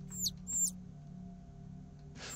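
A bird in a ceiling hole in the horror video game Angels of Death gives two short, high chirps close together at the start, faint over a low ambient hum, followed by a brief soft noise near the end.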